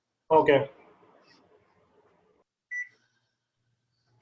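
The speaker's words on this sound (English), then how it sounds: "And now I'm going to set a timer." A single short electronic beep from a kitchen timer set while pickling, heard clearly after a brief spoken word, with quiet room tone around it.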